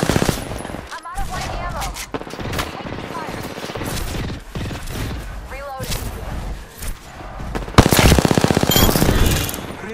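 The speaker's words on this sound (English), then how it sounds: "I'm taking fire." Rapid automatic weapon fire in the battle royale shooter Apex Legends, loud bursts and rattling volleys throughout with a sharp heavy burst near the end, voices and game callouts mixed in.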